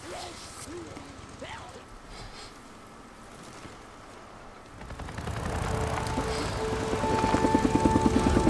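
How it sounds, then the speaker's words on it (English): A helicopter's rotor drone in the video game Days Gone builds and thickens, growing louder and more rhythmic toward the end, with a few faint voice-like sounds early on. "There's the helicopter."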